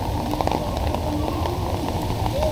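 Rain pours steadily outdoors at an annual Back to the 50's car show, a dense continuous patter on surfaces, loud and close with no talk.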